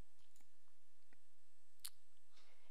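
A computer mouse clicks an OK button in a software dialog, with a few faint, short clicks and one sharper, louder click near the end against a quiet room hum.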